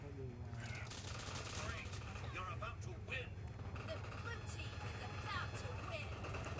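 Machine gun bursts in the mobile battle-royale game PUBG Mobile, faint and scattered beneath someone talking over a low rumble of game noise.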